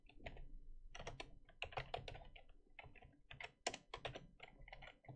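Fingers tap on a computer keyboard in quick, irregular bursts of clicky keystrokes with brief pauses, close and fairly quiet, no talking.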